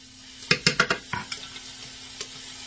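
Vegetables and minced garlic sizzle in a pan while a utensil stirs them, a quick run of four or five sharp scraping clacks followed by a few softer scrapes over a low frying hiss.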